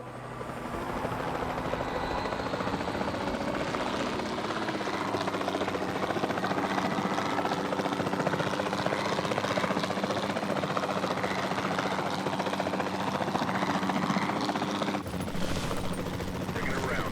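A helicopter in the dinosaur park game Jurassic World Evolution 2 flies with a steady, dense rotor and engine roar for the whole stretch. Game sound effects and faint radio-style chatter sit underneath it.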